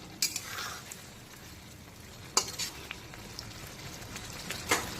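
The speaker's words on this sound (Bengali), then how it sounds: "এখন আবারও বেশ কিছুক্ষণ মশলাটাকে কষিয়ে একেবারে ভাজা ভাজা করে নেব।" Spice paste for a prawn and ridge gourd curry with pumpkin-leaf stalks fries in a pan, a soft low sizzle under a few sharp, sparse scrapes and clinks of the stirring spoon.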